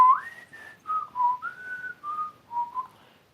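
A person whistles a short, wandering melody at night, with clear, pure notes sliding up and down in several separate phrases, fairly soft and alone with no talking.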